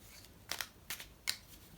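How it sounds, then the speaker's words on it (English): A small stack of cardboard board-game tiles is shuffled by hand in three short, crisp bursts of clacking and sliding, quiet and close with brief pauses between. "Then shuffle the top stack"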